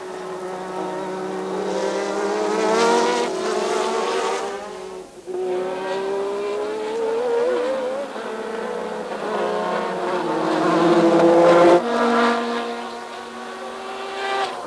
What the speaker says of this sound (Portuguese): Acontecimento igualmente importante este domingo foi o Grande Prémio do Brasil de Fórmula 1.